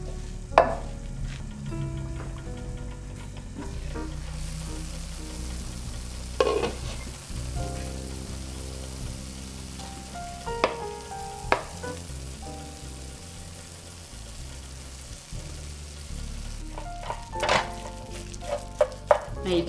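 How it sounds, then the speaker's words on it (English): Veggie burger mixture cooking with other ingredients in a saute pan, a continuous close sizzle broken by scattered stirring clanks and utensil knocks against the pan. "this mixture is going to cook in the saute pan"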